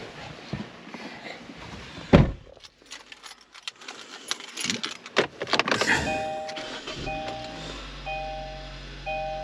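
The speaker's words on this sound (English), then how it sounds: "Let's turn the car on now." Keys jingle and clicks sound nearby, then a 2019 Kia Sportage starts and settles into a low steady idle with dashboard chimes beeping repeatedly.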